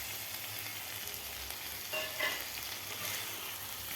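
A low, continuous frying hiss comes from fried eggs turned in masala in a kadhai for egg biryani, with a brief burst of stirring and spatula scraping midway.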